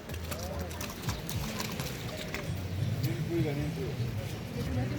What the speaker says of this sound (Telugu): మనకైతే గుర్రాలు చూడండి సిలిండర్లు ఎత్తుకొని పోతున్నాయి.